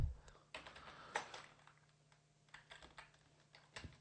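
Typing C++ code on a computer keyboard produces quick, light key clicks in short bursts with brief pauses. The clicks are close but quiet, and no one speaks.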